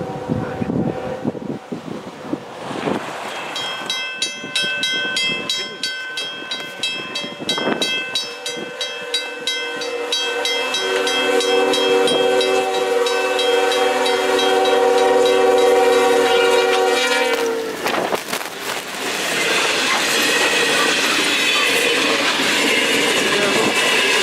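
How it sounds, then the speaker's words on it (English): Locomotive powering through deep snow on the tracks, a loud rumble and clatter rising as it nears, with a long sustained horn blast through the middle before the roar of the passing train and flying snow takes over. "this locomotive powers through all on its own"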